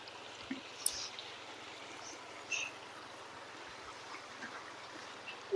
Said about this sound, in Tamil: தண்ணி அரிச்சிட்ருக்கு பாருங்கள் காவாய் வழியாக போயிட்டுருக்கு